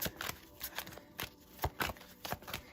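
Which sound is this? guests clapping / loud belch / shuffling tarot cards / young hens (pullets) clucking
shuffling tarot cards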